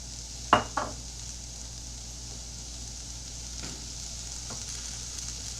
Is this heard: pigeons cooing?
no